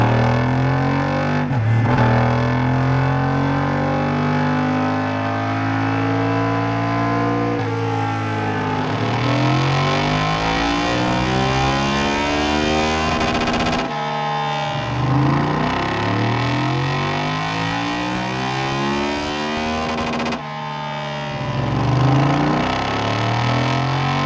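A 2025 Yamaha Tenere 700 motorcycle engine revs hard on a dyno during ECU remapping, climbing through repeated long, loud pulls with short drops between them.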